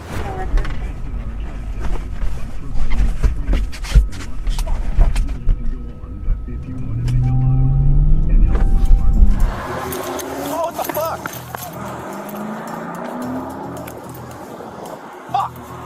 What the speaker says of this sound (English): jumps into the front of the patrol vehicle and simply drives away